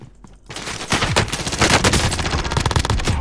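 A Fara-83 rifle fires in Call of Duty Warzone, a dense rapid burst of loud automatic gunshots that starts after a brief quiet moment and keeps going almost continuously.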